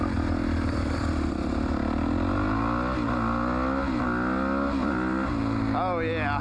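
A Honda 400EX ATV engine revs hard and loud up close, its pitch climbing and falling through several throttle blips, with a voice talking briefly over the roar.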